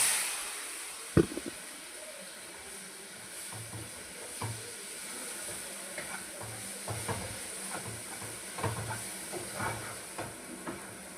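Moong dal is stirred into golden-brown roasted semolina in a pan, giving quiet, irregular scrapes and soft clinks over a faint frying hiss, with one sharper knock early on.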